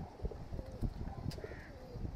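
A Chandakhani pigeon cooing softly nearby, with low murmuring coos and a faint higher chirp over a quiet background, brief and without speech.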